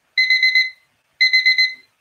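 Auction countdown timer alarm rings in two short bursts of rapid electronic beeping, each under a second, separated by a pause, loud and close with no talk.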